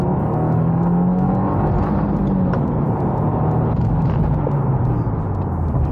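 A 2022 Subaru WRX is pushed to wide open throttle in second gear. The engine gives a loud, steady rumbling roar with a rising tone that holds for the full six seconds, and no talking is heard.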